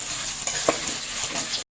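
Paneer pieces frying in hot oil, a steady close sizzle with bubbling throughout and a few soft stirring knocks, cutting off abruptly at the end.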